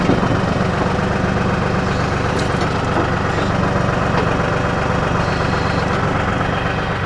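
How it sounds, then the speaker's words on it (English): The engine of an LS tractor with a backhoe attached runs steadily at close range while its downriggers are hydraulically lifted, giving a loud, constant mechanical drone with a faint rattling vibration throughout. "Now I can lift my downriggers back up."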